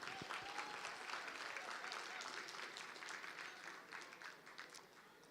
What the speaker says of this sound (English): Can we please give a round of applause for Vera De Silva?